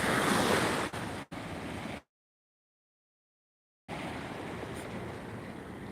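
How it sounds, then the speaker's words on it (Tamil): Rough, swollen sea surges against the shore in a loud, continuous roar of surf mixed with wind buffeting the microphone, cut off by a couple of seconds of total silence before the churning resumes. "இன்றைக்கி கடல் வந்து சீற்றம் ஆயிடுச்சு"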